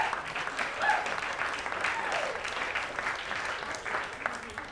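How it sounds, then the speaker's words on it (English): A comedy club audience breaks into steady applause during a stand-up set, with dense, even clapping from many hands that holds at a moderate level throughout. "You are horrible people for clapping for that"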